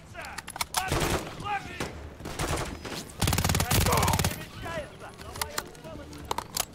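Gunfire from the video game Call of Duty Modern Warfare 3: loud bursts of rapid automatic shots and single cracks in a chaotic firefight, with in-game voices talking over and between the shooting.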